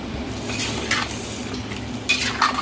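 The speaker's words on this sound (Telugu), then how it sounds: "సాల్ట్ వేసుకొని మొత్తం కలిదిప్పేసుకొని మూత పెట్టేసుకుందాం" Curry with salt just added being stirred in a pot, a steady faint sizzle under a few sharp metallic spoon clinks near the end, close by.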